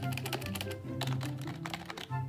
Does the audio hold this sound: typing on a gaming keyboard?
yes